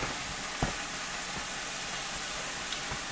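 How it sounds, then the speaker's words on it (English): Loud, steady sizzling of ground turkey frying in a pan at 350 degrees, a dense hiss with occasional small pops, close by and without speech. "You hear it sizzling up."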